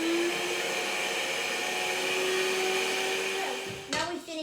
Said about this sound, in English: Now we've finished whipping the double cream.